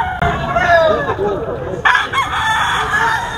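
A rooster crows loudly and close by at a poultry market holding hundreds of chickens, one long call followed by another, over steady background noise from other birds.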